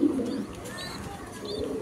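Fancy pigeons coo softly nearby in short, low warbling phrases, with faint bird chirps above them and no one speaking.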